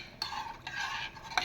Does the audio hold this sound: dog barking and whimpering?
no